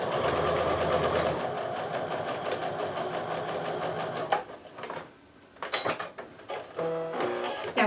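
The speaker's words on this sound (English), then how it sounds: "I'm just going to go ahead and sew this one together" A sewing machine stitches quilt pieces together for a flying geese quilt, running in a steady whirring drone and then giving way to short start-and-stop bursts of mechanical stitching close by.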